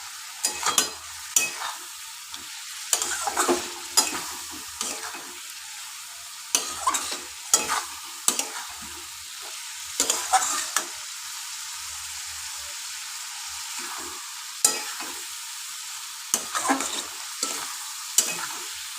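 Potatoes sizzling in hot oil in a pan for a Bengali chicken curry, stirred in bursts with scraping strokes of a spoon against the pan, a steady fry hiss underneath and the stirring stopping and starting.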